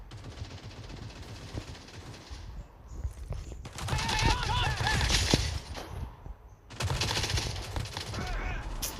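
Rapid bursts of gunfire from the mobile shooter Modern Strike Ops, the loudest volleys near the middle and end and a quieter exchange at the start, with a voice talking faintly under the shooting.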